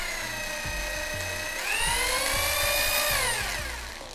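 A Bosch power drill runs in normal drilling mode, a steady whine that climbs in pitch partway through as the motor speeds up, then eases off near the end. Close and fairly loud, with no talking over it.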